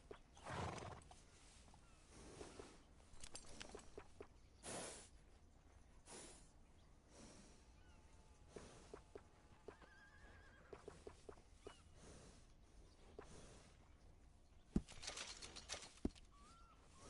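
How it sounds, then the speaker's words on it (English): A video game horse whinnies and snorts, with clip-clop hoof falls scattered through a quiet outdoor wilderness scene; the sounds are sparse, moderately near and heard alone. "A well-groomed horse is a real sign of class."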